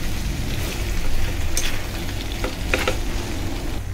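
Egg chilli sizzles steadily in a hot pan while a spatula stirs and scrapes through it, close and loud, with a few sharper clinks against the pan.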